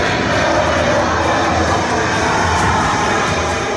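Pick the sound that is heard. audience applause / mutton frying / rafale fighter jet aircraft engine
rafale fighter jet aircraft engine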